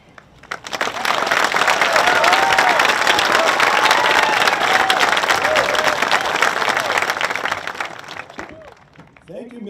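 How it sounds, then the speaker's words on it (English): A graduation audience at a high school ceremony breaks into sustained applause, dense clapping swelling quickly and holding loud for several seconds with some cheering before tapering off, and a voice starts speaking as it fades. "Can we have another round of applause for all of our speakers, please?"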